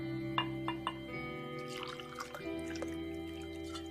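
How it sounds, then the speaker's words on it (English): A drink is poured into a lowball glass, with soft drips and a faint trickle of liquid over a steady low hum, quiet and close. "I take off my jacket and pour myself a lowball."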